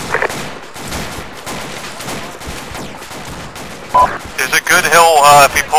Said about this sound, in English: Chris, sounds like we have fire direct west now